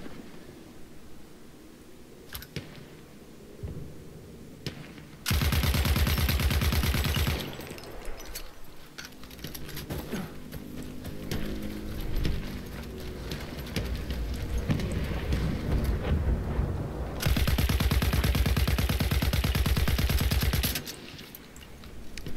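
Sustained bursts of automatic gunfire in Battlefield 1, a player shooting from the ground at a bomber overhead, with two loud dense volleys separated by a rumbling stretch of battlefield noise and scattered shots.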